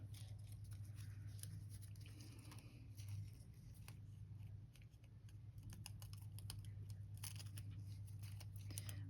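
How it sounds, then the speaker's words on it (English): Scissors snip out a dream catcher nail decal for press-on nail art: faint, quick clicking cuts that repeat irregularly over a steady low hum, with no talking. "I'm gonna cut out this dream catcher."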